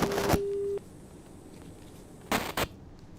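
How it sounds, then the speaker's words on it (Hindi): A telephone line drops mid-call: a brief burst of noise and a steady beep tone, quiet line hiss, then two short crackling bursts near the end. "लगता है फ़ोन डिस्कनेक्ट हुआ उपेंद्र जी का।"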